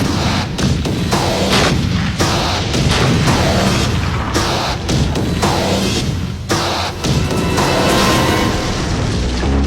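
T-72BME tank main gun firing, rendered as a dense, continuous barrage of loud booms and blasts repeating in rapid succession for the whole stretch, with no talk.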